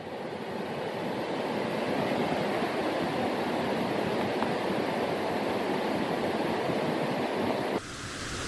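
The waterfall at Silver Falls, Oregon, gives a loud, steady roar of rushing water close by, unbroken for the whole stretch.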